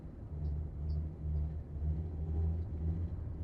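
Car creeping slowly straight ahead out of a parking lot in the driving game Backseat Drivers, a low steady engine hum that swells and eases in gentle pulses, with no voices over it.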